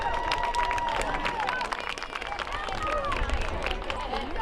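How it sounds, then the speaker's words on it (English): A crowd in the stands at a Hillsboro Wildcats high school football game claps and cheers for young volleyball players, steady applause mixed with babble and whistling cheers, with voices heard throughout. "How about a round of applause for our 3rd through 6th grade volleyball."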